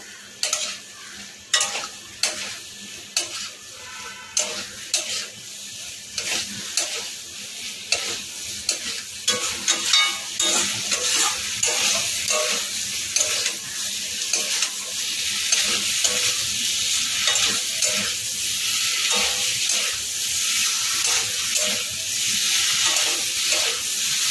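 Raw jackfruit is sautéed with spices in a pan, with rhythmic, repeated spatula scrapes over a close sizzle that swells into a loud, continuous frying hiss, and no one speaks.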